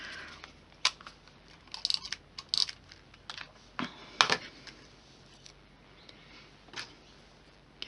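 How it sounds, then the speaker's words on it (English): A tape runner laying adhesive strips during Christmas card making with Stampin' Up! stamping supplies, heard as a series of short, close crackling clicks and rasps at irregular intervals in a quiet room, with no talking. "it's my tape runner."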